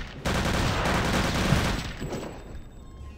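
Gunfire in the video game Return to Castle Wolfenstein during co-op play: a loud, dense burst of rapid shots lasting about two seconds, then fading into quieter trailing noise.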